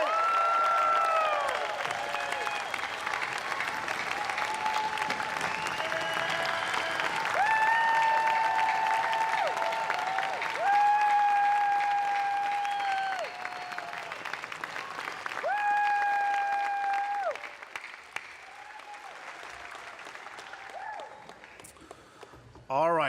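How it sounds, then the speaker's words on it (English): At a university convocation, the crowd on stage and in the stands gives the graduates a long, sustained round of applause, with sustained musical tones sounding over the clapping until it thins out near the end. "I want everyone on this stage and everyone up in the stands to congratulate these graduates. This is their day. Give them a round of applause"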